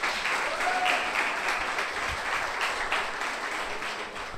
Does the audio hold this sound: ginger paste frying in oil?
no